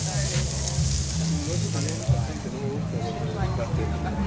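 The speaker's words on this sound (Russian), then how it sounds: "О, мяско жарят, смотрите как." Meat frying on a grill at a street food stall in Villa 31, Buenos Aires, gives a steady sizzle under nearby voices and market bustle.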